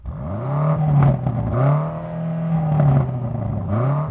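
A BMW M8 engine revs repeatedly, climbing to a capped pitch and bouncing off a soft limiter around 4,500 rpm several times, loud and close, with no talking.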